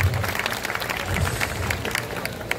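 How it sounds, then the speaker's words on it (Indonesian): A crowd at an evening Balinese calon arang performance claps together, a steady wash of applause with scattered sharper hand claps, close and fairly loud. "tepuk tangan untuk kebersamaan kita pada malam hari ini"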